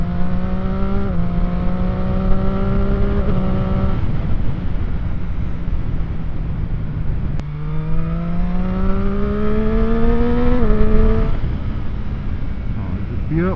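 A motorbike accelerates hard on a road ride, its engine note climbing through gears in loud rising sweeps with brief dips at each shift, over steady wind rush.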